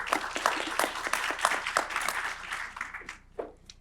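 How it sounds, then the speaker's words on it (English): Audience applause at a community panel event, a crowd clapping in a brisk patter that thins out and fades toward the end, moderately loud and heard alone. "Round of applause for Mildred."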